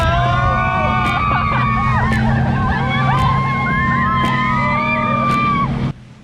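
A speedboat ride off Geommeolle black-sand beach on Udo island, Jeju: a steady, loud engine drone runs throughout with excited voices whooping and shrieking over it and periodic thumps, then cuts off abruptly at the end.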